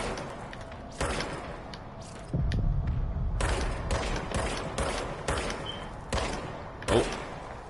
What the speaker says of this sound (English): Fire the service weapon.